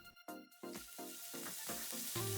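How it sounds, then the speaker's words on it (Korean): Onion, tomato and spinach are stir-fried in a pan for a spinach frittata, with a quiet sizzle broken by short, repeated scraping strokes as the food is stirred. "양파가 색깔이 나면 토마토와 시금치 넣고 잘 볶아서"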